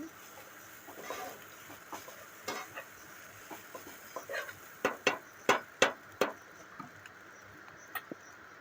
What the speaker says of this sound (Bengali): ভালো করে নাড়িয়ে চাড়িয়ে আমি চাউমিনটা রেডি করে নিচ্ছি।